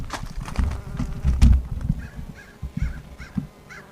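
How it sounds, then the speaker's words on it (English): Hornets and bees buzzing around a beehive being robbed, with thin insect whines rising and falling through the clip over low rumbling handling noise and scattered knocks nearby. "There's some hornets here that are showing up."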